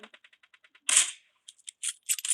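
Gunfire from the mobile battle-royale game PUBG Mobile: a quick string of about eight light, evenly spaced shots, then a louder blast and a few scattered sharp cracks, all close and clear.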